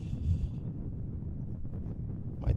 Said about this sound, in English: Really, really strong gusts.